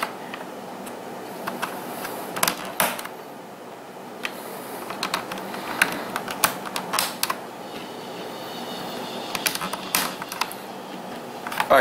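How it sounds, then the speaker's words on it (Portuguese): Keys on a PC keyboard being pressed back into place during cleaning, giving scattered sharp clicks and taps at irregular intervals over a steady background hiss, close and fairly quiet. "Para encaixar é só colocar aí no local e dar uma apertadinha aí para ouvir o clique."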